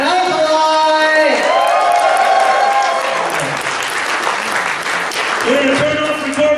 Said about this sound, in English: give a huge round of applause for Xander the Dragon